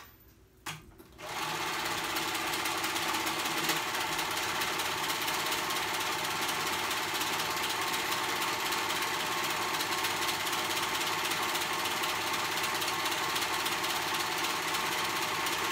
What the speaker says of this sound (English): All right, I'm sewing this one up.